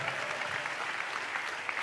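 A church congregation claps in praise of Jesus during a sermon. The applause is steady and fairly quiet, with no pauses.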